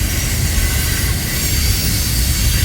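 A freight train carrying intermodal containers rolls steadily past nearby in Durand, a loud continuous rumble and rattle of wheels and cars with no break.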